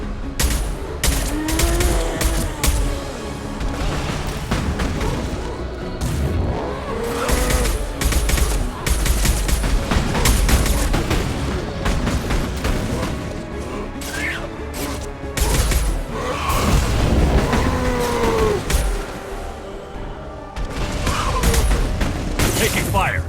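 Gunfire in the Mass Effect 2 video game, dense bursts of shots and impacts rattling almost continuously during combat, loud and busy, with voices speaking briefly over the fighting.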